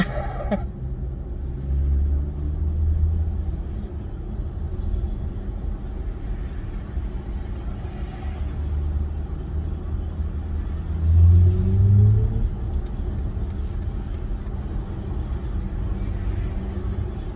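A 2022 BMW i4 eDrive40 electric car accelerates on a ramp with a deep, steady road rumble, fairly loud and close, swelling briefly partway through, with no voices.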